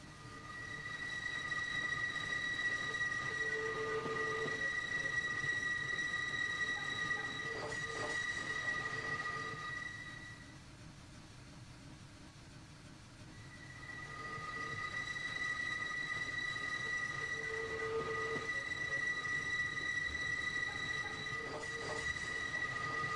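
Two Union Pacific Big Boy steam locomotives, numbers 4005 and 4013, running in the Train Sim Classic game, giving a steady loud rumble of rail noise with squealing wheels and tonal whines that dip briefly midway before resuming.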